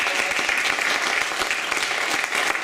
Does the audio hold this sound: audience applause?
yes